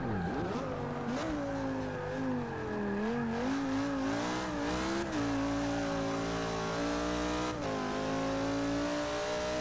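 Race engine noise during the Rolex 24, with a Lamborghini race car running close behind, heard as a loud continuous engine drone that rises and falls in pitch with shifts and revving, steady throughout.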